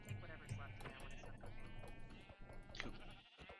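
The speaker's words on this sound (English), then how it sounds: "Sheep." Sheep bleating in the Minecraft video game, a few short nasal bleats mixed under continuous talking and game background noise.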